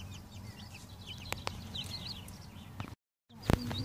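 A hen named Lottie clucks softly among her chicks on a homestead farm, with faint high chick peeps, a few sharper calls, and a brief dropout near the end.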